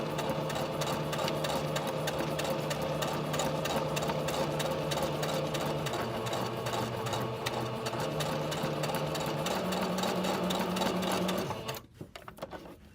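A sewing machine stitches fabric and lace with a fast, steady mechanical whir, running continuously at close range and stopping just before the end.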